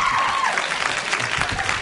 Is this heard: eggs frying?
no